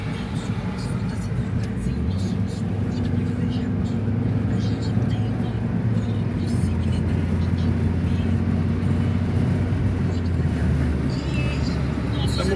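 Car interior while driving through Brasília, a steady low engine and road drone with a continuous hum, a radio station playing and someone talking over it.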